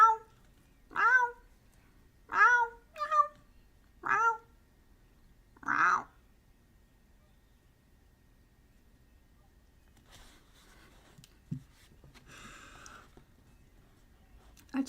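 A person imitates a cat, giving five or six drawn-out meows in a quiet room, evenly spaced at first, followed by near silence with a few faint soft noises.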